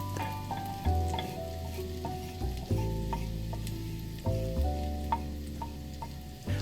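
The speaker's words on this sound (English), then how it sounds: "A quick stir, just enough to soften them." Garlic and herbs sizzle in an omelette pan while being stirred, a close steady frying hiss punctuated every second or two by the low scrape and knock of the utensil against the pan.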